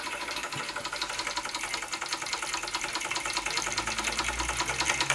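A small Jensen Model 65 toy steam engine with a leaking boiler keeps running after its heat is turned off, giving a steady, fast mechanical chatter with a faint hiss that holds at a constant level throughout.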